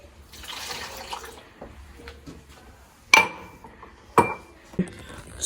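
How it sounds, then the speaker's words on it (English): Water poured into a pressure cooker in a home kitchen, a soft splashing stream followed by a few sharp metallic clanks of the pot, close and fairly quiet with no talk. "And finally, we have to add our water."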